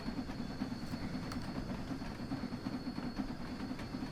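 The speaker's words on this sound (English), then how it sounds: "there's another train going past" Train passing in the Train Sim World 2 winter game, a quiet steady rumble with faint rhythmic rail clatter, continuous and fairly distant, without talk.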